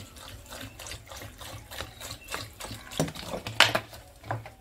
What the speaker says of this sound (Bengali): আর দিয়ে দিচ্ছি জল।